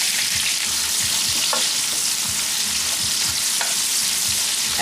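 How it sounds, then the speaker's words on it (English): Chopped onions fry in an electric fry pan with a loud, constant hissing sizzle, steady and close, with a few faint spoon taps and low crackles underneath. "So now, next thing I'm going to do is to put in the chopped onions."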